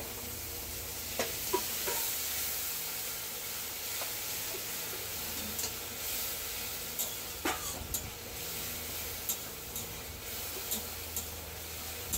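Spiced masala with turmeric and sugar sizzling as it fries in a pan for a striped spiny eel curry: a soft, steady hiss with occasional faint stirring scrapes, heard alone.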